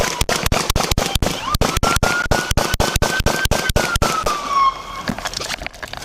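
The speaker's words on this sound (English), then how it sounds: "shots fired!" Rapid gunfire as police officers shoot at a suspect armed with an AR-15 style rifle outdoors: about twenty loud, sharp shots in a fast, slightly uneven string over several seconds, then quiet background.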